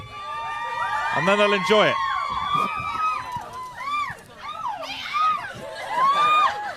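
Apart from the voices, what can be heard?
audience cheering and whooping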